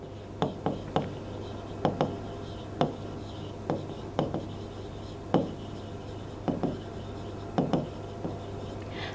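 Chalk or pen taps and scratches on a board in short irregular strokes, fairly faint and close, over a steady low hum in a quiet classroom setting.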